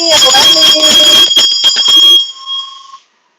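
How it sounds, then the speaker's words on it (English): A hand bell rings close and loud in repeated bright strokes, then one last tone fades out into silence. "I'm going to ring my bell."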